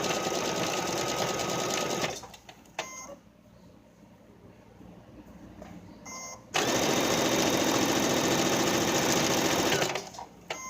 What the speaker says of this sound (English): just do a regular straight stitch. I've got my machine where it automatically does a back stitch